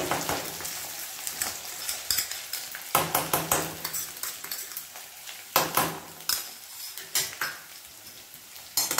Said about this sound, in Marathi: हे छान परतून घ्यायचं या तेलामध्ये आपल्याला